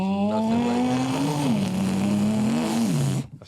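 A voice imitates a throaty Lamborghini Urus V12 engine revving, a sustained buzzing hum that rises and dips in pitch for about three seconds before cutting off.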